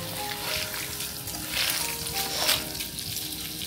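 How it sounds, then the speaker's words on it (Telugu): Asafoetida and curry leaves are tempered in hot oil, giving a steady frying sizzle with light crackling and a couple of louder spitting swells over a few seconds. No one speaks. "ఇంగువ, కరివేపాకు వేసుకోవాలి, చటపట ఆడుతుంది కాబట్టి"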